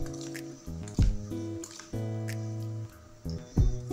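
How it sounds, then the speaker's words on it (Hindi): Raw chicken is stirred by hand or spoon with ginger-garlic paste and refined oil in a home kitchen, giving wet squelches and sticky squishes in an uneven rhythm, close and fairly loud, with a steady tonal hum behind them. "अब सारे चीज़ों को अच्छे से हम मिला लेंगे।"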